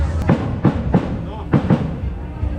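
Firecrackers going off at a village fair in a mountain town, a series of muffled bangs in irregular succession, heard at a distance beneath a general outdoor hubbub.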